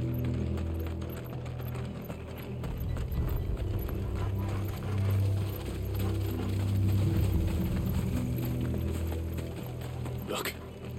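Horses' hooves clip-clop steadily in Final Fantasy 16, a moderately loud rhythmic patter heard beneath game voices and background music, with a brief sharp swoosh near the end.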